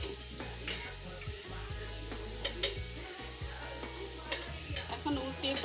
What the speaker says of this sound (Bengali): এখন উল্টিয়ে পাল্টিয়ে এটাকে ভেজে নিতে হবে।